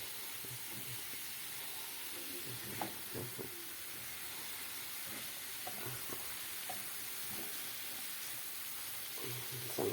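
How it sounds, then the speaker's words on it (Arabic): Meat sizzling in a pan with black pepper and spices, a constant soft frying hiss with scattered crackles and light stirring knocks, close but fairly quiet. "سامعين صوت اللحمه؟"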